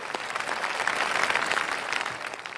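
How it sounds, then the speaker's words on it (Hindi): Steady applause from a crowd, dense clapping sustained throughout at moderate loudness with no voices on top. "जोरदार तालियां बजाकर स्वागत कीजिए।"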